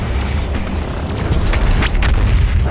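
Heavy booming blasts in a video game, a dense continuous roar of deep rumbling explosions with crackling bursts layered on top, loud and sustained for the whole stretch.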